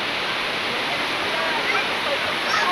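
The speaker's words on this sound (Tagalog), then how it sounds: "napakaganda yung sapa ngayon" Creek water in Masinloc, Zambales rushes steadily and loudly, a dense continuous wash with no pauses.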